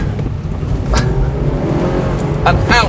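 A Mitsubishi Lancer is driven hard through tight hairpins with handbrake turns, its engine roaring steadily and swelling with each burst of power, while someone talks over it.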